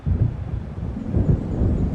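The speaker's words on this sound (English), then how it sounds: "It seems there's a storm coming." Low rumbling thunder from a storm in the video game Alan Wake, a steady deep roll with slight surges that lasts the whole short stretch, heard alone.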